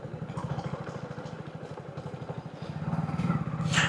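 A Bullet motorcycle engine thumps along with a rapid, even single-cylinder beat, close and fairly loud, and the pulse quickens and grows louder toward the end.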